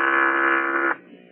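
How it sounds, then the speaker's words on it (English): An intercom phone buzzer from an old science-fiction radio drama gives one loud, steady electric buzz for about a second, then cuts off into quiet hum. "Give me the intercom phone, Lustig."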